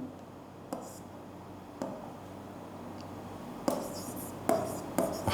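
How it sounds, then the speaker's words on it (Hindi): Handwriting during a chemistry lesson, with soft scratches and a handful of sharp taps as a pen or marker strikes the surface, close and quiet over a low hum, no talk. "लिख देता हूँ।"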